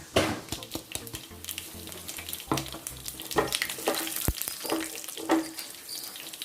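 Tempering spices drop into hot oil for pepper chicken rasam, crackling and sizzling loudly up close with sharp pops and stirring scrapes throughout.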